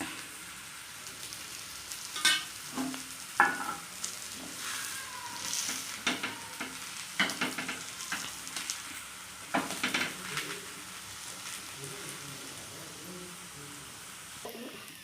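Ragi adai frying in oil on a pan gives off a steady, soft sizzle, broken now and then by light clinks and scrapes from a utensil against the pan.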